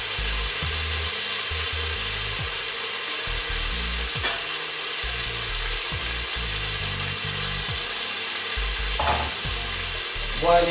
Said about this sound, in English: Boiling nicely.